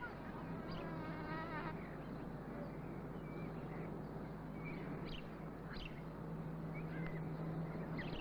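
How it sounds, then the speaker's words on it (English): Bees buzz around flowering marigolds in a warm sunny garden, a steady low drone running throughout with faint bird chirps scattered on top. "The bees love them."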